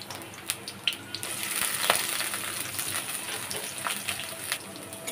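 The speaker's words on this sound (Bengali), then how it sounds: "তেলের উপরে আমি পেঁয়াজ কাঁচামরিচটাকে ভালো করে ভেজে নিচ্ছি।" Onion, garlic and green chili sizzle in hot oil in a pan, a steady hiss peppered with sharp crackles and pops.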